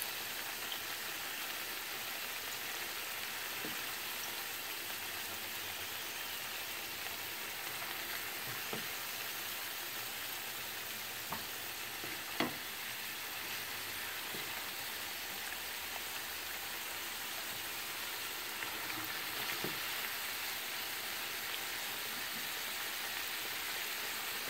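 Taro pieces deep-frying in hot oil fill the space with a steady, even sizzle broken by a few sharp pops, heard on its own and at a moderate, close level.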